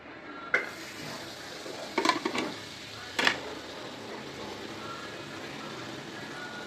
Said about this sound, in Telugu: బటర్ అండ్ కొంచెం ఆయిల్ రెండు మిక్స్ చేసి ఆనియన్, టొమాటో, క్యాప్సికమ్ ఇవన్నీ బాగా ఫ్రై చేసుకొని